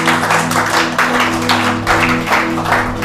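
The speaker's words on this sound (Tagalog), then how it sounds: "Palakpakan natin si Lord," A church congregation breaks into loud, sustained applause, dense clapping that swells in waves and fills the room for several seconds.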